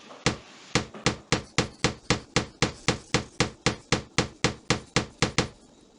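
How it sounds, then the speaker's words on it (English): A hammer in the 1998 PC game Tonka Workshop nails castle walls together, giving a steady run of about seventeen sharp, loud wooden knocks spaced evenly, heard alone without talk. "Use the hammer to nail together the walls and connect the turrets."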